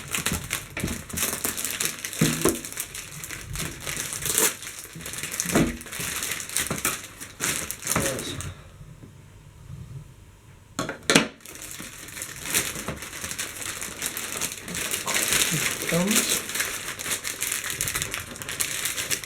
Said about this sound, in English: I'm going to try and use the pair of scissors.